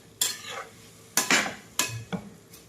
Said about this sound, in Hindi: इसे भी अच्छी तरह से हम सौते करेंगे और मसाला जो डाला है उसे मिक्स कर लेंगे